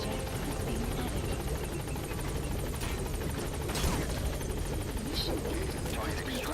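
An extraction helicopter in a stealth-action video game drones steadily with thumping rotor noise throughout, loud and close, alongside scattered bursts of game sound and voices.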